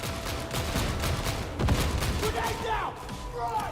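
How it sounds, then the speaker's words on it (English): Grenade blasts and gunfire in a video game: a dense barrage of booming detonations with a heavy low thump near the middle, continuing loud and chaotic throughout. "Take the grenade! Grenade out! Grenade down!"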